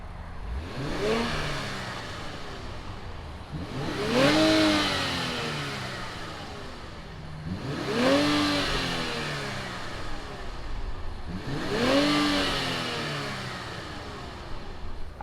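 A 2019 Infiniti Q60 Red Sport 400 engine starts and revs close by, four strong rising-and-falling revs spaced evenly a few seconds apart, with no voices.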